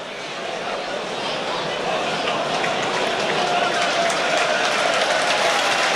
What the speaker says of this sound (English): good round of applause for the referee